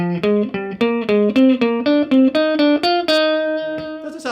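A Fender Stratocaster electric guitar plays a slow scale that skips notes, about a dozen clean, separate picked notes climbing in a steady rhythm, close and alone.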